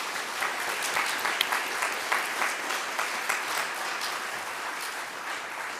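Steady applause from a candidates' forum audience in Livermore, thanking two candidates, dense clapping held at an even level throughout with no voices over it.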